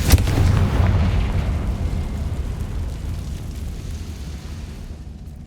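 A Confringo spell blast in Hogwarts Legacy: one loud explosive boom at the start, then a long rumbling decay fading over several seconds, with no voices.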